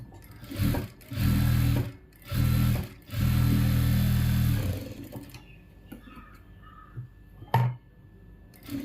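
A sewing machine stitches a blouse border in bursts: several loud, close runs of steady mechanical whirring separated by short pauses, then quieter handling and a faint clunk, with no talk.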